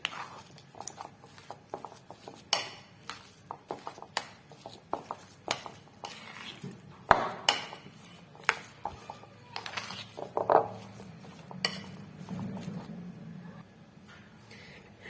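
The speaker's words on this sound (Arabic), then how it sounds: "كملت خلطتها مليح مع هذوك التوابل والمعدنوس" Potatoes mixed by hand with black pepper, paprika, butter, spices and parsley in a bowl, giving soft irregular patters, scrapes and light clinks of a utensil against the dish, quiet and close, with no talking.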